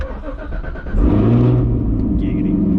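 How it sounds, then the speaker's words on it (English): Cold start of a 2020 C8 Corvette Z51 V8 heard from inside the cabin, a starter whirr followed by the engine catching into a loud, deep, steady rumble. "Have we ever done a cold start from in the car?"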